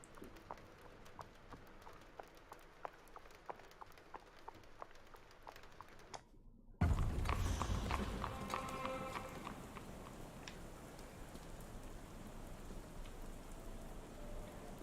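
Rain falls in a Sherlock Holmes video game: quiet ambience with faint ticks gives way midway to a sudden, loud, steady downpour that continues to the end.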